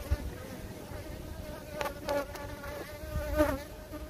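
Honey bees buzzing around a kept hive, a steady faint drone with a few louder passes as individual insects fly near, no voices present.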